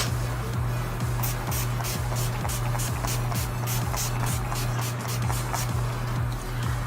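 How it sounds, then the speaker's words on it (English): Urban Decay All Nighter setting spray hisses out in a run of short, quick bursts over a steady low background hum. "We're going to spray with some Urban Decay All Nighter"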